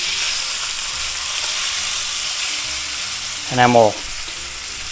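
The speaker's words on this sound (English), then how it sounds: "flip it over and sear this side one more time here" A thick chuck steak sears in a hot pan with a steady, loud, continuous sizzle, and someone talks briefly over it near the end.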